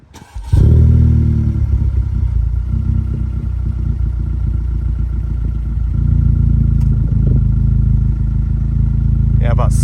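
A Honda Civic Type R FK8 fitted with a Ballade titanium exhaust starts up close by, with a brief cranking burst settling into a loud, steady idle rumble that holds throughout and then steps up slightly toward the end.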